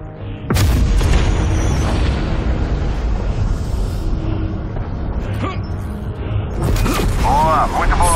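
A loud boom bursts out in Call of Duty Black Ops Cold War, followed by rumbling and crackling debris, with another burst and ringing tones near the end; voices talk underneath.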